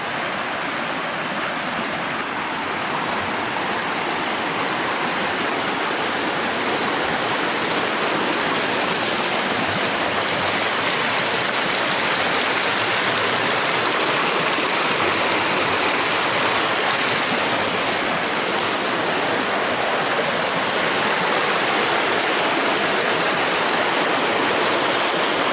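River rushing beside a forest hiking trail in Icebox Canyon, a loud continuous broadband wash of flowing water that stays steady and close throughout, with no voices.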